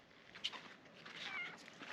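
A cat meows a few times, soft and fairly close, with a faint hiss of background noise underneath.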